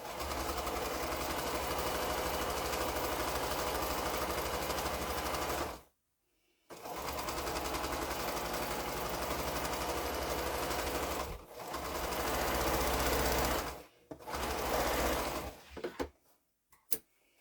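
A sewing machine stitches the final seam of a quilt block, running in a steady close whirring drone with a couple of short pauses and a few stop-start bursts near the end.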